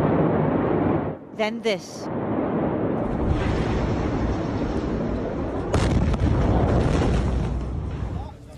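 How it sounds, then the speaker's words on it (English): Massive blasts at the Beirut port in Lebanon, a heavy rumbling explosion roaring through the clip after a brief lull, with a voice speaking over the chaotic, booming noise. "The first blast sent a plume of smoke into the air and set off multiple explosions."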